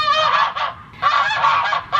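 Geese honk loudly and close by in two rapid bursts of overlapping nasal calls, separated by a short pause.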